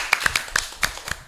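A few people clap hands in a small indoor setting after a dance performance, with about nine sharp, close claps at an uneven rhythm and no talking over them.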